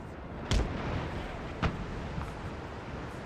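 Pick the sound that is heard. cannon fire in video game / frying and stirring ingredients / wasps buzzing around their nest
cannon fire in video game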